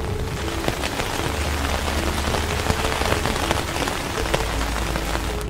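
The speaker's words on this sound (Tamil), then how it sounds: "சும்மா சவுண்டு ஏன்னு பார்த்தா சரியான மழை" Heavy rain pours steadily onto a flat roof, with dense pattering drops and occasional sharper hits, loud and unbroken.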